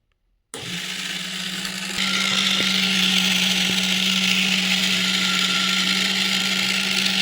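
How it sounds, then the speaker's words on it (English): An 8-in-1 agricultural machine's plower, driven by two 10 RPM motors, starts abruptly and runs with a steady electric motor whine and hum, getting louder after a couple of seconds, with a few faint clicks and no talking. "Now I will show demo of the plower how it works."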